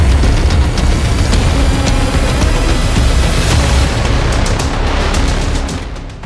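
The atomic bomb exploding over Hiroshima, a loud, sustained roaring rumble with a broad blast of noise that holds steady and then fades slightly toward the end.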